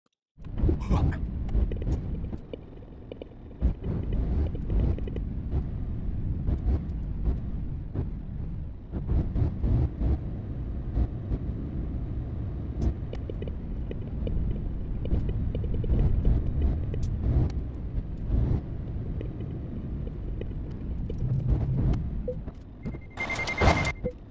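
Heavy truck engine idling in Euro Truck Simulator 2, a steady low rumble that runs continuously and fairly loud, with a few brief mechanical clicks and a short higher tone near the end.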